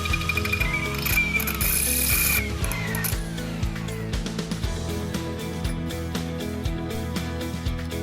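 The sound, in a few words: drill boring through boron steel wear edge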